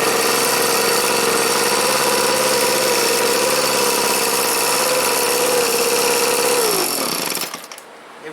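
A Craftsman 316794970 gas leaf blower runs continuously at a loud, steady buzzing idle close by, then the engine note drops and cuts out near the end.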